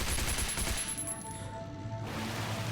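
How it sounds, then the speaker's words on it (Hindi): Rapid gunfire rattles in the survival video game Last Island of Survival, a dense burst of shots that fades partway through, fairly loud with no talking. "तो नीचे चल के मैं दोबारा से गोली चलाता हूँ"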